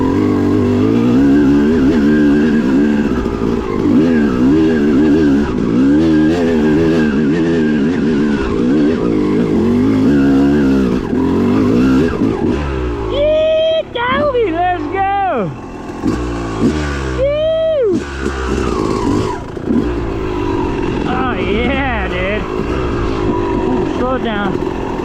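Yamaha YZ dirt bike engine revving hard in first gear at a riding spot, loud and close, with rising and falling pitch sweeps as the throttle opens and closes, a rider's voice shouting over it.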